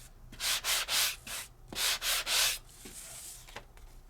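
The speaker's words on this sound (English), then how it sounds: "So I have embossed and sanded that detail into my fanciful frames, my arched circles." Sanding across embossed paper detail on die-cut arched circle frames, heard as a series of rhythmic, close scratchy strokes, roughly eight passes in bursts, with no talking.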